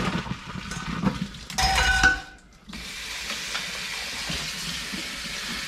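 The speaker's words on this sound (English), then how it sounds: "we're just gonna drain these and rinse them in cold," Cold tap water runs into a strainer of cooked somen noodles, a steady close splashing rush that briefly cuts off and then resumes alone.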